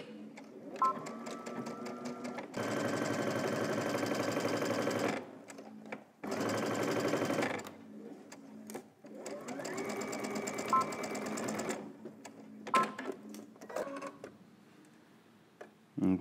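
A home sewing machine stitches a pocket bag for a Simplicity S9331 garment, running in several loud close bursts separated by brief pauses, with short backstitch runs near the end and no voices.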